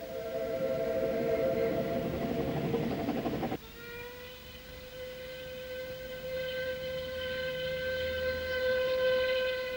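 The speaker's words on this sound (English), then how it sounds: "he's now the oldest steam loco in the world, still operating on its original line." Prince, an 1863 steam locomotive, hauling a train on the Ffestiniog Railway, with a steady rumbling run that gives way to a long, sustained whistle tone ringing out loudly and then holding on, with no talk.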